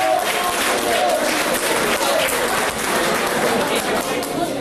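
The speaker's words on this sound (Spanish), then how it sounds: "un aplauso de despedida para Luis Barra" Farewell applause for Luis Barra at a concert event in Curanilahue, dense continuous clapping from a sizable crowd, loud and even throughout.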